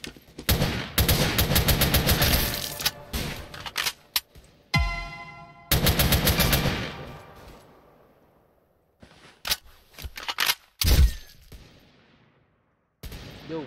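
Gunfire in a Roblox shooter game, with bursts of rapid automatic fire, sharp single shots and reload clicks separated by brief silences, loud and close.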